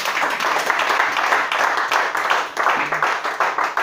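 A church congregation claps steadily at a worship service in a dense, continuous wash of applause that stays loud and even throughout, with voices mixed in under the clapping.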